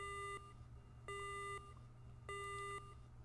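Three evenly spaced electronic beeps from the Megaman Battle Network 2 video game, each a steady tone lasting about half a second, sounding clear and alone over a low background hum.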